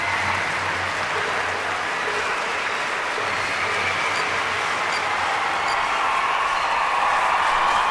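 Steady, dense applause from a capacity stadium crowd at an athletics race in the London 2012 video game, a continuous roar of clapping filling the whole stretch without pause.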